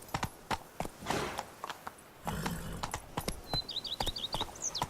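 Roach, the horse in The Witcher 3: Wild Hunt, gallops with steady rhythmic hoofbeats while faint bird chirps sound in the background.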